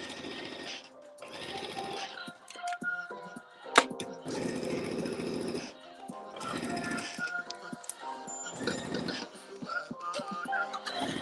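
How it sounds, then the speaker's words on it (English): Sewing machine stitching the facing onto a cutout blazer at a 5/8-inch seam, running in repeated bursts of rapid mechanical chatter separated by short pauses, close and fairly loud, with a sharp clack partway through. "we're sewing the facing on"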